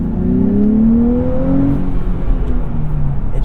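2023 Nissan Z with a V6 engine and six-speed manual revving, a loud close rising engine note that climbs then eases back to idle over a few seconds, heard alone.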